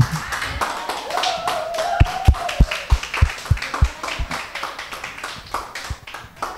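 A room full of people claps together at a motivational gathering for a sales network's top earners. The sharp hand claps are close and loud, with a brief voice underneath.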